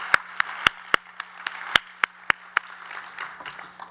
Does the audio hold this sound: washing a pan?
no